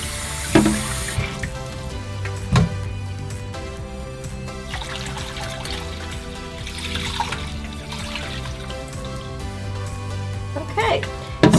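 Water runs and splashes into a turkey roasting pan in a steady stream, with a few clanks of metal along the way.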